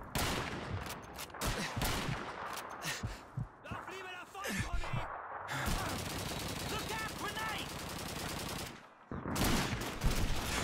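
Call of Duty 2 combat in the desert town of Matmata, with dense bursts of automatic rifle and machine-gun fire crackling almost continuously, loud and close, interrupted by brief pauses and a few isolated shots.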